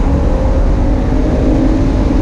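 A 2014 Ford Mustang or 2015 Chevrolet Camaro convertible pulls under throttle on a track through a left-hand bend, giving a loud, steady engine drone with broad wind and road rush and no voices.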